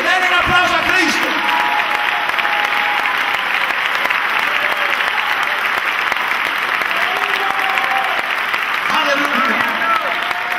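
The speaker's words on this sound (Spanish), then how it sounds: "Denle un aplauso a Cristo" A church congregation applauding during a sermon, dense sustained clapping that fills the whole stretch at a loud, even level, with a voice speaking over it at times.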